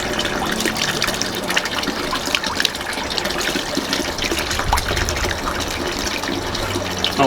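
Pure mountain stream water trickles and splashes steadily in the Alps, a continuous close, moderately loud flow without pause.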